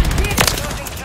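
Rapid SMG gunfire in a first-person shooter game, a dense close burst running through the whole moment, with a louder crack near the middle.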